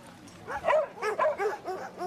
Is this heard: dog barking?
yes